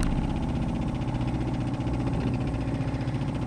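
A Suzuki 2.5 outboard motor idles on a Jonny Bass 100 boat with a close, steady low-pitched putter and an even vibrating drone throughout, heard alone.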